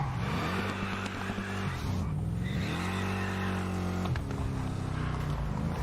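Lamborghini Diablo VT engine in the racing game Test Drive Unlimited, revving loud and continuous with rising pitch through gear changes, a brief dip near the middle before climbing again.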